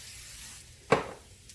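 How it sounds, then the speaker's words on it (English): A single short hiss of non-stick cooking spray lands in a pan, a quick sharp burst that fades within a fraction of a second over a faint background. "I'm gonna go ahead and hit this heavily with some non-stick cooking spray"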